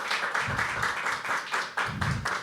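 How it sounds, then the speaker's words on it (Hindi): Audience clapping and applauding at a live poetry open mic, a dense patter of many hands that swells and dips in waves. "जोरदार तालियां हो जाए"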